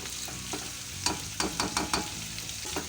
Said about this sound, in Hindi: मैं इसे 5 मिनट फ्राई करूंगी